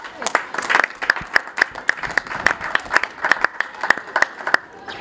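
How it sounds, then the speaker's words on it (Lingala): An audience at a school scholarship ceremony in Congo applauds the student recipients, steady uneven clapping from a modest crowd, with voices mixed in beneath the claps. "On peut applaudir pour eux."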